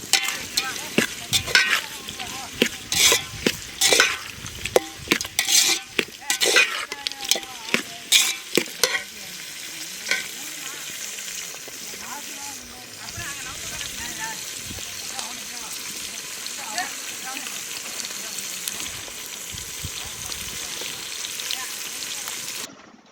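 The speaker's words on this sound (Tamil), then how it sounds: "நல்லா வெங்காயம் பொன்னிறமாக வர்ற வரைக்கும் நமக்கு நல்லா வதக்குங்க" Onions stirred and fried in a pan until golden for a Chettinad-style chicken gravy: a steady sizzle runs throughout, with clattering spoon strokes and scraping in the first half before the frying settles into a continuous hiss.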